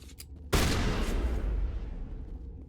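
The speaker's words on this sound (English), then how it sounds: "Let's get the Lancer. See, what happens if I shoot something up close?" A single loud Lancer rifle shot fired up close in the Mass Effect video game, a sharp blast that decays into a long rumbling tail.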